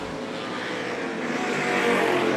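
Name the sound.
racing car engine passing on track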